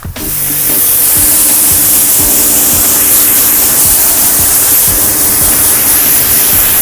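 A water spray rinses the body of a Dodge car, a loud, steady hiss of pressurized water running continuously for several seconds close by.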